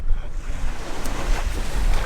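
Ocean waves surging and breaking on a beach with a steep berm, a loud continuous wash and roar with gusty wind buffeting the microphone.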